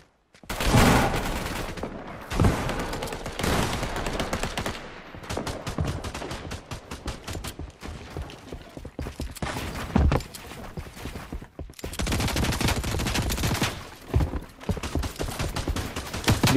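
Fortnite gunfire: rapid automatic bursts and repeated shots in long dense runs with brief pauses, loud and close, no talk.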